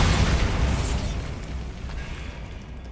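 A Bombarda spell blast in Hogwarts Legacy, a loud, dense explosive roar already underway and slowly fading across three seconds, with no talking over it.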